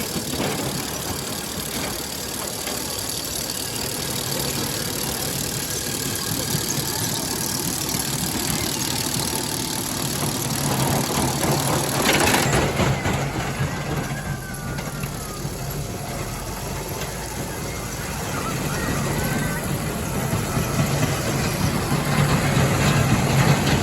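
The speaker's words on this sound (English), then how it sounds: "So let's go ride the roller coaster and see how it is." Riding a rough roller coaster at a Pueblo city park, with a steady loud rattling rumble of wheels over track joints throughout the ride and no talking.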